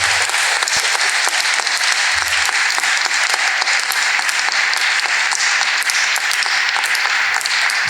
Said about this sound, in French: Ça, c'est l'applaudissement des acteurs de ce soir.